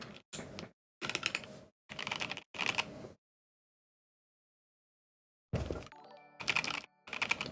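Bursts of clacky keystrokes come from a KBD67 Lite R2 mechanical keyboard, several quick typing runs split by a long silent pause, close and crisp.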